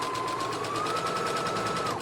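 A sewing machine running a straight stitch along a doll dress, a fast, steady needle rattle close up, continuous and even until it slows at the end.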